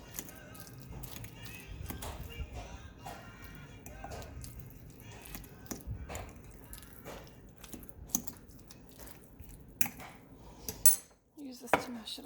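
Metal fork scraping and tapping against a stone molcajete while chunky avocado for guacamole is mashed, a steady run of close clinks and scrapes with a few sharper knocks near the end.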